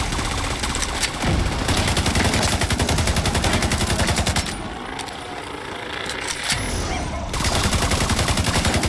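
Sustained automatic gunfire from The Division 2, loud and rapid, runs almost continuously and pauses briefly in the middle before the bursts resume.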